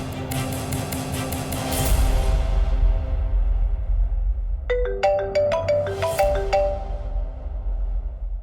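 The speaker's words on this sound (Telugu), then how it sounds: "ముందుగా నేను అభికి ఫోన్ చేస్తాను, చేసి సారీ చెప్తాను." A phone ringtone chimes loudly as a call is placed, a bright repeating melodic ring playing over a steady music bed, with a second burst of ringing tones partway through.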